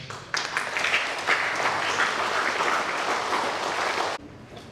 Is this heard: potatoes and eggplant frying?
no